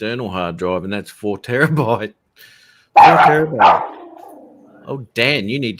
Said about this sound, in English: Either kill the dog or kill the mic.